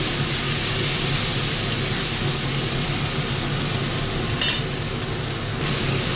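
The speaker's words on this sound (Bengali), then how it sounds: "দেখো আমার আলুটা ভাজা হচ্ছে" Potatoes frying in a pan while cooking katla fish kalia, a loud steady sizzle with dense crackling hiss throughout and one brief stirring scrape near the end, close up.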